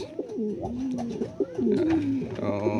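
Several breeder pigeons coo close by in soft, throaty, overlapping rolls, with a low murmur of voices underneath.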